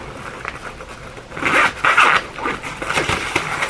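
Zipper on a mesh pocket of a bag being pulled open, a few quick raspy zips in short bursts, close and fairly loud, with handling noise between them and no speech.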